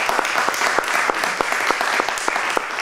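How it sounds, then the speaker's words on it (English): An audience at a community storytelling event in an art gallery gives a round of applause, dense, lively clapping from a nearby crowd, steady and alone without talk. "How about a big round of applause for putting us up here?"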